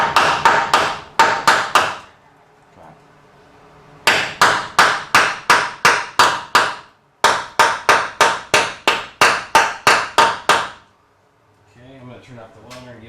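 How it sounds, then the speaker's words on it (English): A chipping hammer knocks slag flux off a fresh weld on a steel bus frame during a bus conversion, in three rapid bursts of loud, sharp metallic strikes with short pauses between them and faint background hum. "I've got my chipping hammer. I'm going to knock away the flux and see what kind of weld we have under there."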